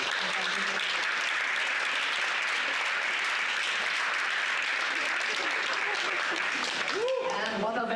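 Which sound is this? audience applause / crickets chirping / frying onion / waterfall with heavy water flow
audience applause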